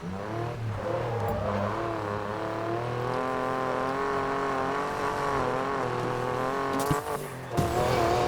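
A Ford F150 Raptor offroad build driven at high speed in the video game Need for Speed Payback, its engine droning loudly and shifting pitch, then a brief brake squeal and a short dip near the end.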